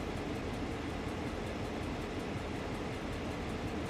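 A train in a video game rolls steadily along the line, a dense continuous rumble with low rattling texture that stays loud and even throughout, no voices over it.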